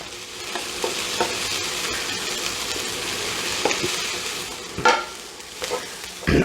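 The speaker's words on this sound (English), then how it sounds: "when you are lightly browning onions, you really have to stand at the pot and stir them" Onions lightly browning in a pot crackle and sizzle steadily while being stirred, with scraping and knocking strokes of the utensil at irregular intervals, close up and with no talking.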